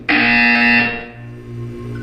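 A loud, harsh electronic buzzer in Portal 2 blares for about a second, then fades into a lower sustained hum.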